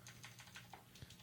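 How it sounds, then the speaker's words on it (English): Quiet, quick taps on a computer keyboard, about half a dozen irregular keystrokes close to the microphone, with no voices. "My mic is now in front of my keyboard, so my touch typing's not so good."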